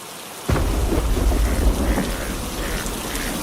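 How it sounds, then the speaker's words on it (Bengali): Cartoon rain and thunder: a sudden loud burst of thunder rumbles in, then steady heavy rain pours down continuously, with no voices. "এই যে বলতে না বলতে আবার বৃষ্টি শুরু হয়ে গেল"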